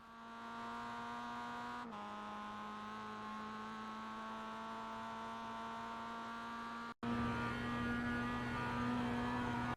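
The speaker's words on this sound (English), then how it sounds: "you want to shift down or remain in a lower gear because the high revs of the engine help you to get more power onto the track" Simulated Mazda MX-5 engine in the iRacing game holds a steady high-revving drone with a clean harmonic whine, briefly dropping pitch at a gear change and cutting out near the end before resuming louder.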